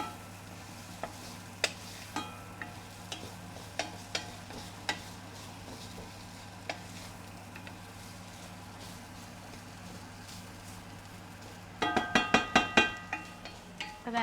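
Ginger, garlic and chilies hit a hot pan for South African bunny chow, giving a burst of sizzling and stirring clatter near the end after a quiet stretch of faint ticks over a steady low hum.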